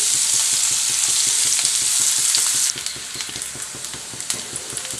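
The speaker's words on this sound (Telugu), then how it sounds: "ఇప్పుడు ఇదే ఆయిల్లో ఉల్లిపాయ ముక్కలు వేసుకోవాలి ఒక పెద్ద ఉల్లిపాయ పొడుగ్గా కట్ చేసి వేసుకుంటున్నాను" Long-sliced onion frying in hot oil gives a loud, steady sizzle with rapid crackling; the hiss drops to a quieter, even frying after a couple of seconds.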